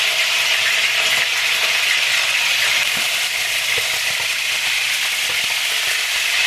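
Steak searing in hot oil in a pan, a loud, dense and continuous sizzle that stays steady throughout with no voices.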